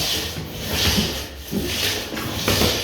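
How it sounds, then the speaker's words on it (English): A scraper pulled with the grain across a hardwood floor, giving repeated rough rasping strokes in a steady back-and-forth rhythm, close and clear with no talking. "Scrape with the grain of the wood."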